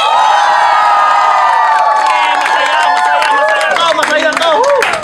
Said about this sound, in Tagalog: Sigawan!